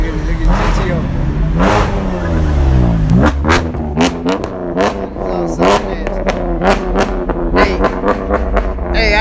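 A Pontiac GTO engine revving hard at a car meet, repeated loud rising and falling throttle blips with rumbling exhaust close by, while people talk and shout in the background.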